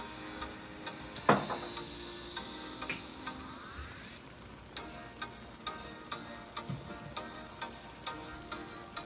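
Dungeness crabs fried in a pan with oyster sauce and Haitian sauce stirred in, a steady sizzle broken by frequent light clicks and scrapes of a utensil against the pan, close and without talk.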